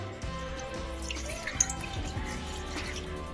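Soaked dried fish is rinsed in water: soft close splashing and trickling with a few distinct drips, steady and fairly quiet, with no talking.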